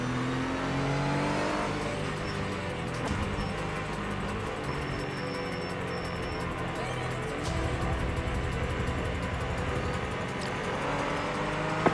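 Porsche 718 Cayman GT4 race car engine in the iRacing sim, droning steadily with shifting revs throughout, mixed among other cars at a race start, with a voice talking over it.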